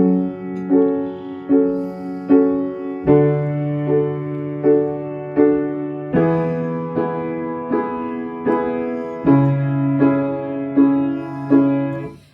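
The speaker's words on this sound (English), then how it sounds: "we can add the right foot on the damper pedal, so it sounds like this" Piano chords played with the damper pedal held down, struck in a steady rhythm so each chord rings and sustains into the next, close and clear with no talking.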